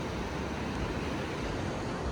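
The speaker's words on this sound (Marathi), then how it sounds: "आणि समुद्र पक्कच खवळला आहे" Rough, churning sea surf at Baga Beach in Goa, a steady broadband wash of breaking waves with wind, continuous and fairly close with no talk.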